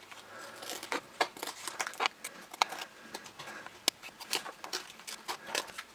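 Scissors cut around a paper guide for a flight simulator instrument, a close run of crisp snips and paper crinkles in an uneven rhythm with soft rustling between the cuts.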